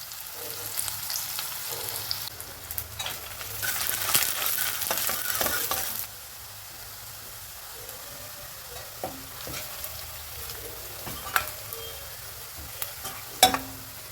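Green chilies and a large chopped red chili sizzle and fry in a hot pan, with a steady frying hiss and scraping stirs for about six seconds, then a quieter simmer broken by occasional clinks and louder scrapes near the end.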